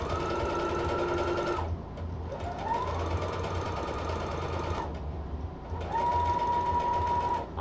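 A sewing machine fitted with a 1/8 narrow rolled hem presser foot stitches in three runs, its fast mechanical hum stopping briefly between them. The sound is steady, close and fairly quiet, with no talk.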